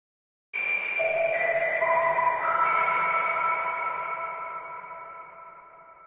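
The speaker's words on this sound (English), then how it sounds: "It's a noisy sine wave instrument, more or less." A breathy, bell-like synth lead plays a few stacked sustained notes alone, ringing with echo and gradually decaying.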